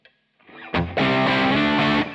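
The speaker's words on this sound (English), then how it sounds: "Now if I bring in a boost pedal," Electric guitar driven by a boost pedal into a Marshall Silver Jubilee Studio amp: a short picked lead-in, then a loud, sustained saturated chord ringing close until it cuts off.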